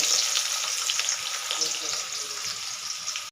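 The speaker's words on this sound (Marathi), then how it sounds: "व्यवस्थित कांदा परतून घेणार आहोत" Onion sautéing in a pan for Maharashtrian masale bhat with tindora, a continuous bright sizzle with soft stirring scrapes, heard up close without talking.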